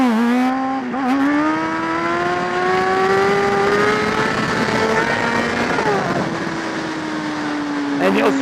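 A motorcycle engine revs hard and holds a high, steady pitch while the rider lifts into a wheelie, the note dipping briefly and rising again, loud and close with no talking.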